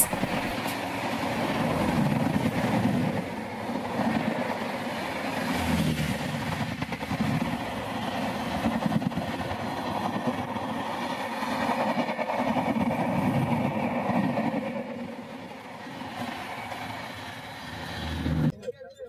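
The Sealdah–Siliguri passenger train 13149 rumbles along steadily near Bagnan in Howrah district, with rhythmic clatter of wheels on rails, heard from inside, a voice faintly under the noise.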